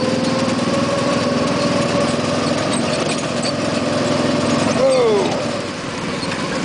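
A go-kart engine runs steadily during a ride, a loud close buzzing drone that holds an even pitch and then dips briefly as the kart slows, with no talking.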